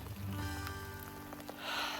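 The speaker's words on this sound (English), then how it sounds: "Now it's really raining." Steady rain falls around a backpacker on a lakeside trail, a soft constant patter with a brief heavier hiss of drops toward the end.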